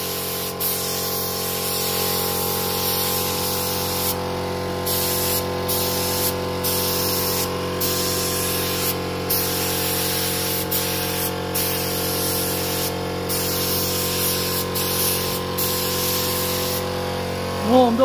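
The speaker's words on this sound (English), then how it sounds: "Again, using the spray gun." Spray gun spraying paint onto the doors of a 323 wagon being custom painted: a loud, close, continuous hiss holds steady from start to end.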